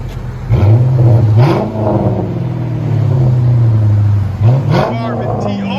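A 2007 Chrysler 300C with a 5.7L HEMI V8 and Carven TR exhaust with 4.5-inch tips revs hard twice, deep and loud and close, settling between the pulls into a throaty hold before a second sharp blip.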